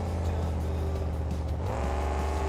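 Loud monster truck engines roaring continuously in BeamNG.drive during a two-wheel skills competition, a dense steady drone that rises in pitch toward the end, with no talk.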